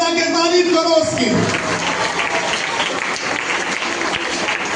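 Church congregation at a Sunday sermon in a Hindi-speaking ministry bursting into loud, sustained clapping in praise that fills the room after a raised voice.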